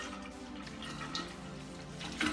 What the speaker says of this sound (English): add about 7 cups of water